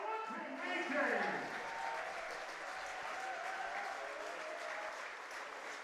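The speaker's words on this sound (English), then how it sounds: "Another cheer from this Majors crowd for the 2022 Intercounty Baseball League champions." A crowd at a 2022 Intercounty Baseball League championship game in London applauds and cheers for the champions, steady sustained clapping throughout, with an announcer talking over it.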